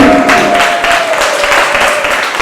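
An audience at a final art performance claps together in a loud, close, continuous round of applause with a faint tone running underneath.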